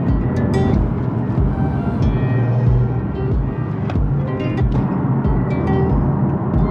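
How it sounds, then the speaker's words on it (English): Inside a moving Nissan 370Z fitted with a new exhaust, a low droning engine and exhaust hum fills the cabin, steady and moderately loud with faint rhythmic pulsing and no talking. "So I'll get you a clip of the car while I'm driving inside now, so Will'll film that so I can just drive."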